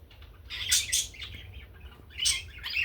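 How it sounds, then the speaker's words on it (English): Several birds chirp and tweet in bright bursts, with soft wing flapping as they fly about, over a low steady rumble in the background. "There's some pretty birds."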